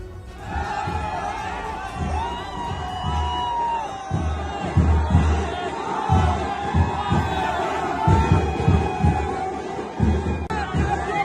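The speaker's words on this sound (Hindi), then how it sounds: "वहां उनकी एक झलक पाने के लिए लोगों की भीड़ उमड़ी हुई थी।" A dense crowd gathered as Prime Minister Modi arrived to vote in the third phase of elections, many voices shouting and calling together in a loud, continuous roar with bursts of cheering.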